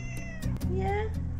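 A cat lets out a short, plaintive meow, rising then falling, heard close by beneath a narrator's voice.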